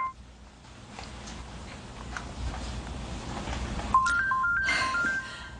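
A mobile phone rings with a repeated electronic tone in an indoor domestic scene, starting partway through and continuing over low room noise, with no talk.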